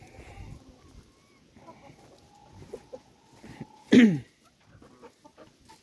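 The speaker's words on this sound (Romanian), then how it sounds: "Aici cocoșul de New Hampshire." A New Hampshire rooster and hens on a farm cluck softly in scattered bursts, with one loud, near squawk midway standing out against the quiet pen.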